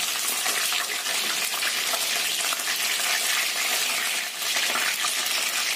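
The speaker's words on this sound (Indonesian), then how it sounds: "Kita goreng sampai ini matang atau kering aja." Fish frying in hot oil until dry, a loud, steady crackling sizzle that holds constantly throughout with no pauses.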